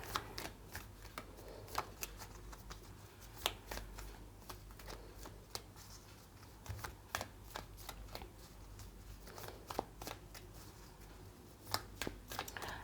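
Tarot cards shuffled and drawn close up, a soft, continuous rustling with scattered sharper snaps and taps over a low background hum, with no speech.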